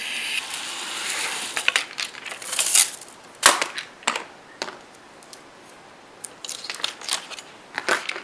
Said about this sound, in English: we're going to cut a circle around him, so the rest of the image is not going to show